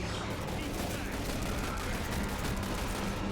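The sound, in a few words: gunfire from the video game The Bureau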